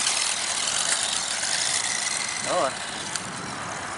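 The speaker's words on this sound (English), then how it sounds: "I haven't given it full throttle yet, I'm just trying to get the feel for it." A WLtoys 12428 RC car drives off-road over rocky ground at partial throttle, its motor a steady whir close by, with a short spoken exclamation partway through.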